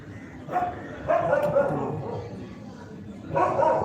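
A dog lets out a few separate barks and yelps at close range, spaced unevenly with short gaps between them.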